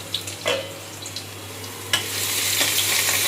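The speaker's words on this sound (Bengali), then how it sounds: "এবার আমি তেল গরম হয়ে গেছে, রসুন দিয়ে দিচ্ছি" Garlic sizzling as it drops into hot oil, a few clinks of a spatula, then a louder, denser sizzle swelling near the end, close up and with no voices.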